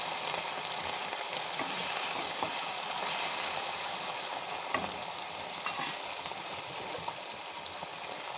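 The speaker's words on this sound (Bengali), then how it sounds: "মাছগুলো এবার উল্টিয়ে দেবো। হয়ে গেছে এই পিঠটা ভাজা।" Fish fry in hot, lightly salted mustard oil in a wok, a steady close sizzle that runs throughout, broken by a few sharp clicks and clinks with no talking.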